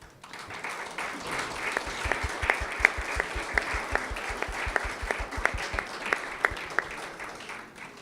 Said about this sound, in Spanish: Brindemos un nuevo aplauso.